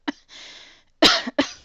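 A person with the flu coughs several times, one short cough, a brief wheezy breath, then two harsh, close coughs in quick succession, loud against near silence.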